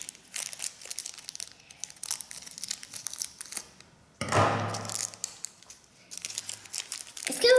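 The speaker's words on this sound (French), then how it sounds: "Il faut encore un coup de ciseau, cette fois-ci." Scissors snip through the wrapping of a banana-shaped surprise package, with crinkling and rustling throughout and one loud, rough cutting and tearing burst midway. The sounds are close and there is no talk.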